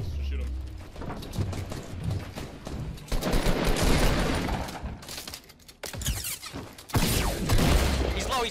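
Gunfire in Fortnite during a building fight, with rapid bursts of shots and sharp cracks amid chaotic impacts and breaking sounds, while players talk excitedly over the action.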